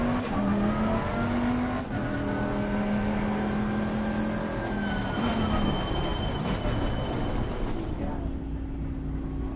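A race car engine in the racing game Assetto Corsa Competizione, at the Barcelona track, howls steadily at high revs with gear changes and pitch shifts; a player talks over it.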